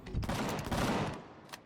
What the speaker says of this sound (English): Somebody just took a shot at me